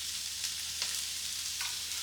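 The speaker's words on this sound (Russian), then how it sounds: "Вот эти вот луковые перышки на сковородку. Цель не поджарить лук, а немножко прогреть в масле" Green onion warming in a small amount of oil in a pan gives a faint, steady sizzle with a few soft stirring touches, close and quiet without talk.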